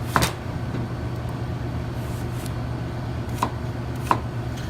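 Apples are chopped into big chunks on a board. A few distinct knife strikes land sparsely over a steady low background hum.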